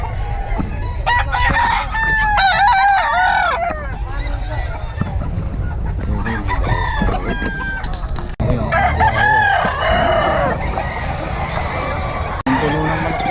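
Roosters crow repeatedly and hens cluck among a crowd of chickens brought from a farm, loud and close, with people talking and low background rumble throughout.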